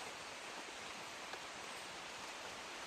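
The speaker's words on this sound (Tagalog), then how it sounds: "lumakas yung ulan doon." Heavy rain falls in a steady, dense hiss with no clear gaps or individual drops, fairly quiet and evenly sustained throughout, with no voices present.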